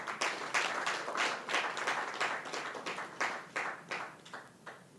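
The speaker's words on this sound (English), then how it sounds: "A round of applause again." A breakfast meeting of business executives gives a round of applause, a moderate group clapping with a distinct pulsing rhythm that gradually thins and fades toward the end.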